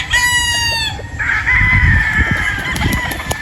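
Close, loud crow from a Boston Roundhead gamefowl rooster, its harmonic call fading into a sustained note, followed by throaty clucks and rustling.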